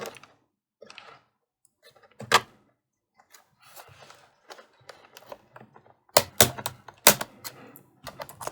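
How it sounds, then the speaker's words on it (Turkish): Asus laptop keyboard pried loose with a plastic guitar pick, giving scattered sharp plastic clicks and snaps. Sparse at first, then a louder cluster of cracks near the end. "Bu klavyeyi sökmemiz için şuradan bir pena yardımıyla kredi kartı da olur. Yukarı doğru kaldırıyorsunuz."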